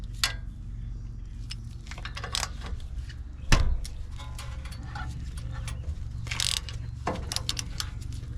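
A ratchet wrench with a 17 socket loosens the brake caliper bolts on a Toyota Sequoia, giving close clicking and metallic ticks over a low steady hum, with one sharper clunk near the middle.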